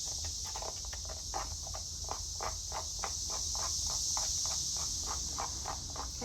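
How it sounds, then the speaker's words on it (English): A continuous high, shrill cicada drone runs throughout, with a faint rhythmic ticking pulsing underneath at a steady pace. "Can you guys hear the cicadas? They are in full force today."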